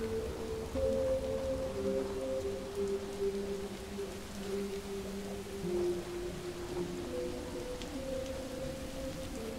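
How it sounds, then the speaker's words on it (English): Steady rain falling in the Fallout 4 video game, a continuous hiss across the whole stretch with low tonal game music or ambience humming underneath. "it's starting to rain"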